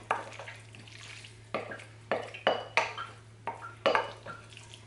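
Tuna casserole mixture dumped from a bowl into a buttered white Corningware casserole dish, a series of wet thuds and scraping clinks of a utensil against the dish, fairly close and clear.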